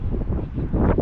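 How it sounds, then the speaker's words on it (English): Strong wind gusts buffet a vertical helix wind turbine held with its brake on, roaring as loud, low rumbling wind noise against the microphone that swells toward the end of this brief moment. "It was good strong wind."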